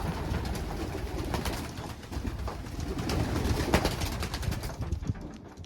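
Young racing pigeons coo steadily at a loft, with soft overlapping calls and rustling close by and no talking.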